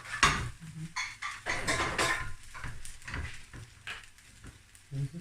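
Chicken fried rice with spring onion being stirred in a pan: scraping spatula strokes and metallic clinks over a steady sizzle, with repeated close-up tossing sounds and no voices.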